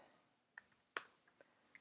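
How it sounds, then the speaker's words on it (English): Typing on a computer keyboard, a few sparse, sharp key clicks in an irregular rhythm, close and quiet against near silence. "type your answer"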